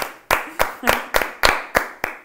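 Seven sharp hand claps at a steady, slightly slow rhythm, fairly close and distinct, with brief pauses between each, given as a spoken call for applause with laughter in a casual talk setting.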